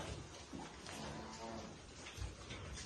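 Low, drawn-out lowing of bulls at a cattle sale, fairly faint and distant, with some background noise.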